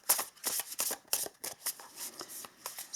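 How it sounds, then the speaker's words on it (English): Tarot cards being shuffled by hand for a love and relationship card reading, a rapid run of crisp riffling and slapping bursts close up, with no talking. "So let us pull a couple of tarot cards for you guys as well."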